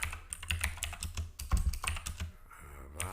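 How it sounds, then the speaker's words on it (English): Rapid typing clatters on a computer keyboard, close and continuous with irregular key clicks and a few heavier thumps, as on a spacebar. "You could hear me typing."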